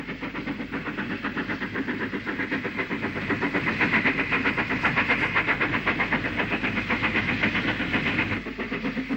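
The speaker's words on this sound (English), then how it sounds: "a short parcels train hauled by a Black 5 at Lichfield Trent Valley High Level" A Black 5 steam locomotive hauls a short parcels train at Lichfield Trent Valley High Level, a steady loud rhythmic chuffing and rolling clatter that builds slightly midway and eases near the end, with no voices.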